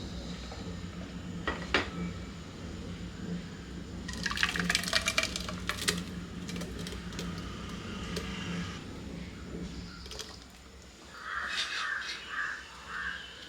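Water is poured into finely ground masala with sambar powder for a black chana curry. The liquid fills in a steady stream, close, with a brief splashy burst midway and other background sounds around it.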